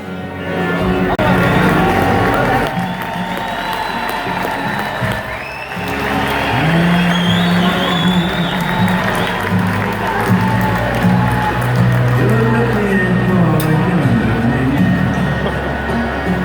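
A large crowd at a Trump rally in Austin cheers and applauds steadily, loud and sustained, with shouts and voices scattered through the roar.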